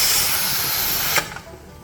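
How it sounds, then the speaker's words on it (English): A pressure canner loaded with kidney beans vents steam in a loud, steady close-up hiss that cuts off abruptly partway through, followed by a couple of faint metallic clicks and quiet. "this right here is now venting, if you can see the steam"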